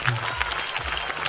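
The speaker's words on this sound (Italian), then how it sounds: "Luigi, prenditi l'applauso di Ficarolo, è una grande persona" Audience applause at a talent show, a steady wash of clapping filling the whole short stretch at moderate loudness, with a voice faintly mixed in.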